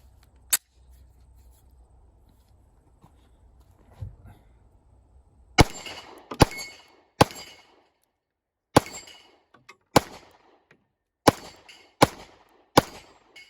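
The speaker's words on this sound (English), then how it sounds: "let's get some first shots going" Sharp pistol shots from a Glock fitted with a Timney Alpha competition trigger crack out one by one, a single early shot followed after a pause by a string of about eight close, loud reports at an uneven pace.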